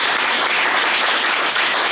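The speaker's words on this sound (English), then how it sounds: "let's give them a round of applause" Dense, steady audience applause filling a live Creative Arts lunch-and-learn event, many hands clapping at once with no break and no talk.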